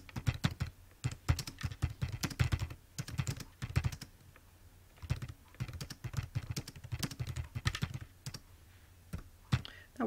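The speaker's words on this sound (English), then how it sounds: "So for example, I can simply type." Fingers typing on a computer keyboard into a table, close and moderately loud, in quick irregular bursts of key clacks separated by brief pauses, with no talking.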